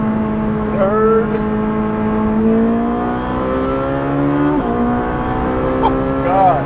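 Ferrari 458 Speciale V8 pulling hard through the gears, its strong rising engine note climbing steadily with brief dips at the shifts, loud and continuous from inside the car while an occupant talks excitedly over it.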